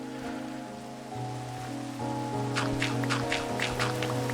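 Rain falls in the Minecraft video game as a soft, steady patter beneath sustained, shifting musical tones, and several brighter drip-like taps appear toward the end. No one speaks.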